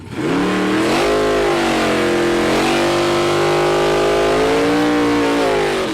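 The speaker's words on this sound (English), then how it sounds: "Beautiful Hemi powered super stock Mike Moran race engine here machine taking on Jason Deidre." A Hemi-powered super stock drag racing car accelerates hard down the strip, with a loud, close, continuous engine roar whose pitch climbs and shifts through gears, alone without talk.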